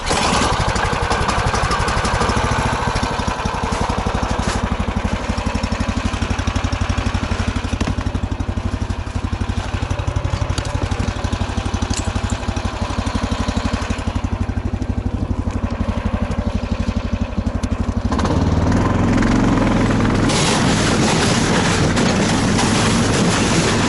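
A vehicle engine runs continuously while setting off across a frozen lake in the taiga, a loud steady drone that shifts in pitch, rising to a harsher, heavier roar toward the end.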